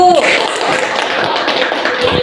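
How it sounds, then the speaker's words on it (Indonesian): Pupils in a classroom clapping for a group of classmates, a short burst of brisk, close claps mixed with faint voices. "Kita beri tepuk tangan dulu untuk kelompok 1."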